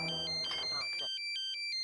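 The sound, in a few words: phone ringing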